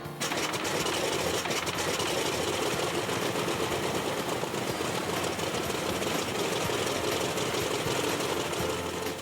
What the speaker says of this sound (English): This type of engine check is routine.